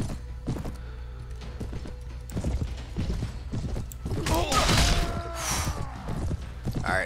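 Horse hooves clop in Mount and Blade Warband, a quick, uneven rhythm of thuds at moderate level mixed with creaks and other battle noise.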